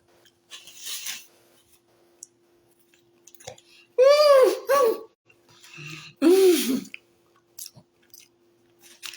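Close, wet chewing of Patti Labelle buttermilk pie comes in short bursts, mixed with vocal murmurs and humming-like sounds between quiet gaps.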